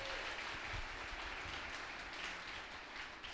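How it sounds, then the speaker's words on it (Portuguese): Church congregation clapping during a Sunday celebration service, a soft continuous wash of applause heard from a distance and fairly faint. "Pode dar uma salva de palmas para alguém se acordar."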